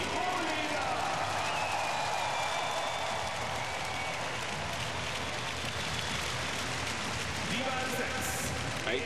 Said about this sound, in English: Listen to the applause here.